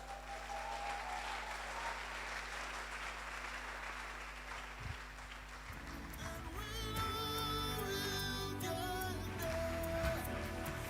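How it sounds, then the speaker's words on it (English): Sustained applause and a standing ovation from a large conference audience at The Pivot Conference 2023, a steady dense roar of clapping that swells louder midway with scattered cheers, while music plays underneath. "Please, a round of applause, a standing ovation."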